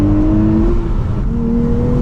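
A 2023 Nissan Z with a manual gearbox accelerates hard, its engine loud and close with rising revs, a brief dip as the gear changes, then the pull builds again.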